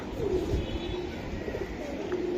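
Low, soft cooing from jet-black Giribaj high-flyer pigeons rolls on continuously, faint and close, with a gentle rumbling texture.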